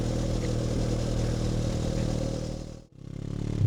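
A brand-new X-Cape 700 adventure motorcycle cruises along an open road, its engine a loud, steady close-up drone with wind rush that briefly dips out before resuming.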